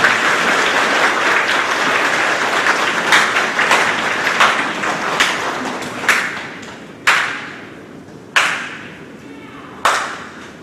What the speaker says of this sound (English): On 3, we're going to clap.